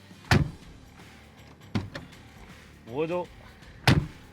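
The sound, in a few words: Mahindra Bolero Neo car door closing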